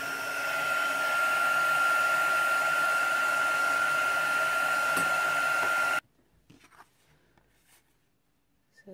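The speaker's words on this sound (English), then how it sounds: "get the heat tool out and melt that" A heat tool blows steadily for about six seconds, melting clear embossing powder for a resist technique, with a constant fan-like whoosh and hiss, then cuts off abruptly, leaving near silence and a few faint handling clicks.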